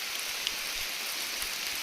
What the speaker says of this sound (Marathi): लय जोराचा पाऊस आला का आता